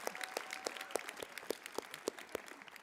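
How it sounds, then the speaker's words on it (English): Audience applause at a university drama school commencement ceremony comes as a faint, distant patter of claps with a rough, regular rhythm. "yeah, we can applaud that, absolutely."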